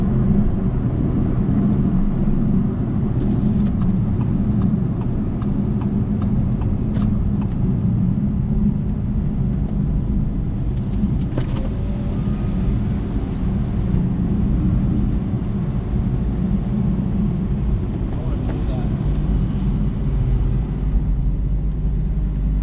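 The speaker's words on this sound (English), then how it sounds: "last night I was driving this Audi R8 out doing an errand" An Audi R8 driven on a night errand in Calgary, heard as a steady, dense low engine and road rumble from inside the car that stays even throughout, with no talk.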